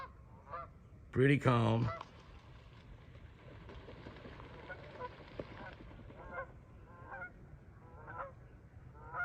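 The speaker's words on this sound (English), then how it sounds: "The Canada geese didn't know what was going on." Canada geese honking outdoors on a calm morning, a loud burst of several close calls near the start, then fainter scattered honks in the distance, with a few words of quiet speech.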